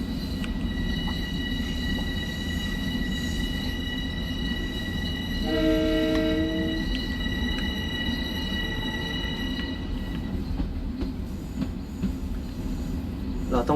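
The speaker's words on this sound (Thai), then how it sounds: "ให้ฟังเสียงรถไฟไปเรื่อย ๆ" A Long Island Rail Road M7 electric train runs steadily past with a continuous rumbling roar, a sustained high whine above it, and a short horn-like tone sounding midway through, all loud and close with no talk.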